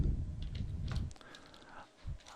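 Keystrokes on a computer keyboard during software setup, a quick burst of clicky taps followed by a few scattered presses, close and fairly quiet.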